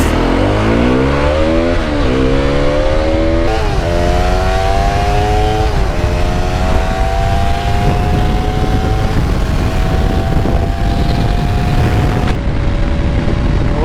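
Hero Xpulse 210 and 200 4V motorcycles accelerate hard in a drag race, their engines roaring close and loud with rising revs and distinct breaks at each gear change, the two engine notes overlapping throughout.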